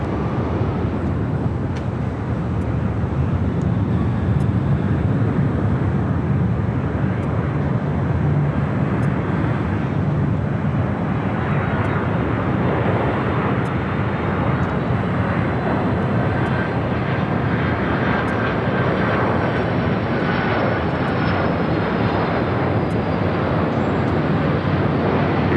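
Heavy jet airliner arriving at LAX, a loud continuous engine roar with a slowly shifting whine that holds steady throughout, no voices.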